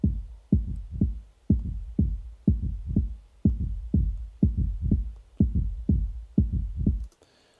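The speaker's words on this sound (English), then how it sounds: "That's how you can get a kick and a sub rather quickly, and using the same sound." A techno kick drum with a deep sub bass tail, warehouse style, thumping in a steady four-on-the-floor pulse of about a dozen booming hits with long decays, loud and alone until it stops near the end.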